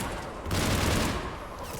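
A burst of rapid gunfire from a mounted gun in Mass Effect Legendary Edition, a dense rattling fusillade that surges loud for about a second over background noise and then fades.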